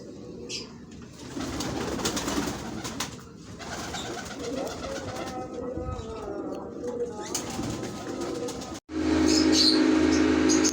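Ferozpuri pigeons coo in low, throaty rolls amid busy background noise, with occasional chirps and a louder burst of rustling near the end.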